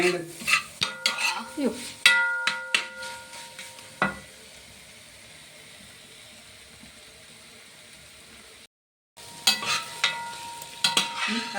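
Spiced clam masala stirred and fried in a pan, with a sputtering sizzle and repeated scraping, clattering strokes of a spatula against the pan, quieter stretches of low frying noise between bursts, and a brief dropout near the end.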